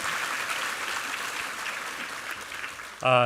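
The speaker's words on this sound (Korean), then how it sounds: "우리 챔버에게 한번 힘찬 격려의 박수 부탁하겠습니다" A church congregation applauds its chamber ensemble at a Sunday service, a broad, even wash of clapping that runs for about three seconds before a voice cuts in over it.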